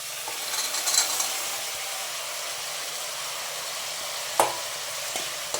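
Raw peanuts fry in hot oil in a pan for a village-style masala sambar, giving a steady close sizzle with occasional stirring scrapes and one sharp clack of a spoon against the pan, with no talking.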